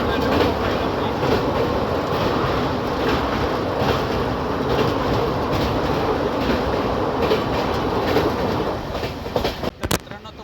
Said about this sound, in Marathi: गाडी आता पनवेल जंक्शनवरून डिपार्चर होत आहे.